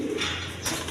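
Big black pigeons, a large cock bird among them, coo softly and steadily up close, with faint chirps around them and no voices.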